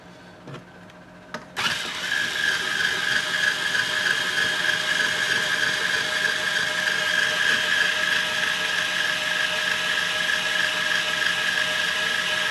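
Tuning peg on a Godin SD electric guitar being wound while fitting a new G string, a couple of small clicks and then a long, steady whirring of the turning peg, close and continuous.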